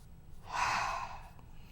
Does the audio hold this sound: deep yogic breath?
yes